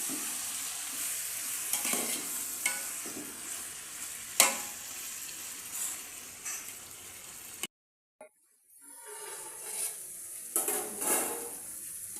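Chicken and onions fry in oil in a pan, a steady sizzle broken by repeated scraping stirs and occasional clinks of the utensil against the metal, with a brief pause before the frying resumes.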